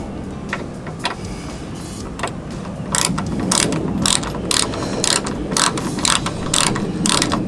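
A hand ratchet clicks in a rapid, steady run of close, sharp ticks, growing louder partway through, while tightening a bolt on a Jeep TJ side mirror.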